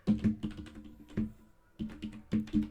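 Python code is typed on a computer keyboard, with close, quiet clusters of key clicks in short bursts separated by small pauses.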